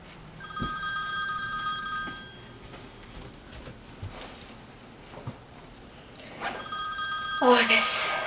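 Cell phone ringing in a home, a faint repeating electronic ring that starts and stops across the span, heard among quiet movement and rustling.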